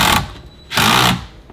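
A screw gun run at full speed drives screws during a speaker installation in a 2019-or-later Volkswagen Jetta, two brief close whirring bursts with a short pause between.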